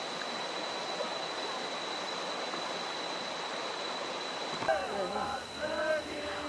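Steady broadband rush of water at Kuta Malaka waterfall in Indrapuri, Aceh Besar, running continuously as a loud wash, with voices breaking in near the end.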